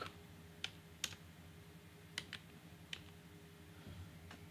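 Sparse keystrokes on a computer keyboard, a handful of sharp clicks spaced irregularly over a low steady hum, typing a short phrase into an HTML form in a browser.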